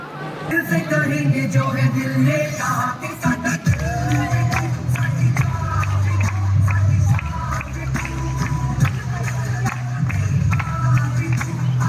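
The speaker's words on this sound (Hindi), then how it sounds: "एक बार जोरदार तालियां" Audience applause at a society Ganpati festival gathering, a burst of clapping and cheers swelling after a short spoken stretch, then sustained crowd noise with voices and background music running underneath.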